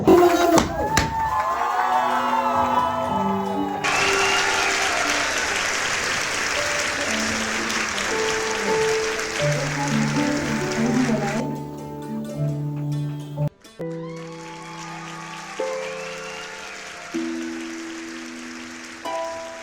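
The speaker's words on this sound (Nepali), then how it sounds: "हामी चाहिँ ताली बजाउँछौँ है त।" Group applause at a children's birthday cake cutting, sustained clapping from a crowd of people with scattered voices and cheering mixed in, continuing steadily for the whole stretch.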